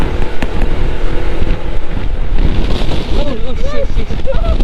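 Strong wind roars and buffets the microphone during a motorcycle ride, loud and continuous, with a voice speaking over it.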